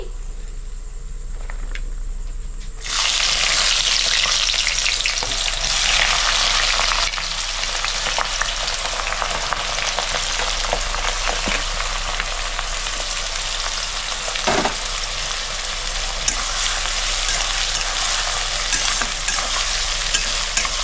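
Onion dropped into hot oil with whole garam masala spices, the sizzle jumping to a loud, dense hiss after a quieter start and continuing with stirring scrapes and crackles.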